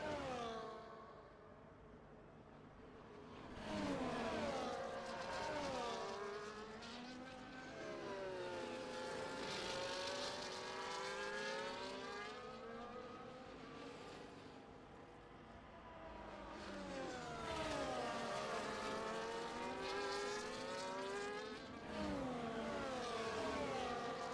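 Race car engines in an F1 24 race at Imola pass by in long rising and falling sweeps, a high whining roar that swells twice as cars go past, fairly distant and steady.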